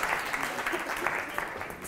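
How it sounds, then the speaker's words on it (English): Brief audience applause at a talk on failure, a steady wash of many hands clapping at moderate level with faint voices underneath. "give a big round of applause to everybody for this experiment"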